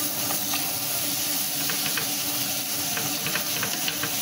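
A spoonful of butter sizzles and hisses in hot olive oil in a pan while being stirred for a pumpkin soup with seafood stuffing, a steady close frying sound with light scraping ticks.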